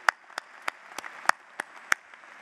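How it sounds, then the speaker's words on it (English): A handful of scattered, separate handclaps ring out at a university engineering commencement ceremony, about eight sharp claps spaced unevenly, moderately close and fairly faint, with no voices. "you deserve a round of applause"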